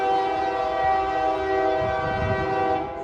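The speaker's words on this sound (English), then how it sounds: "You can hear the train here." A train horn blares steadily with rumbling rail noise underneath, loud and sustained throughout.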